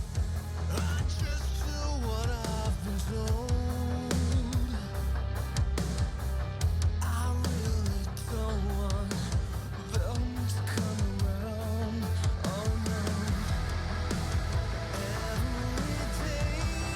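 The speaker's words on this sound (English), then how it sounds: "I did a cover of a pop song a couple of days ago" A self-made cover of a pop song plays back as a full, dense mix with steady beat, bass and melodic lines, continuous and loud throughout with no talk over it.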